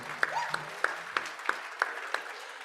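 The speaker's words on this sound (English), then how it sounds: "Let's give ourselves a round of applause because it's Wednesday." A conference audience gives a short round of applause, a sparse scatter of distinct claps at an even pace, moderately close in a hall, briefly over a voice at the start.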